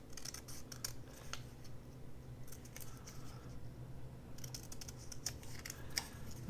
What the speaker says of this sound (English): I think I'm going to trim it where the corners are